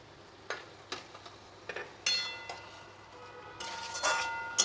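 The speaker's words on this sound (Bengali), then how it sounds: "ভালো করে মশলাটার সাথে মিশিয়ে দিচ্ছি।" A spoon stirs chicken with spices and yogurt in a pan, scraping and clinking against the metal in irregular strokes with a soft sizzle underneath, close and quiet.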